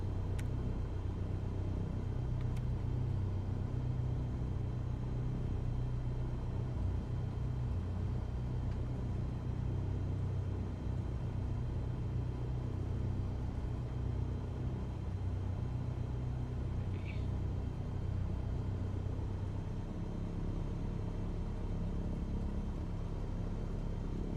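A single-engine light aircraft with G1000 avionics idling just after start-up, a constant low droning rumble that holds steady for the whole stretch with no voices.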